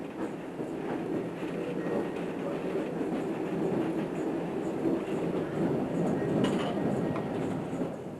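A Trans-Siberian passenger train rolls along Soviet rails, a steady low rumble with faint rhythmic clicking of wheels heard from inside the carriage, continuous and even throughout.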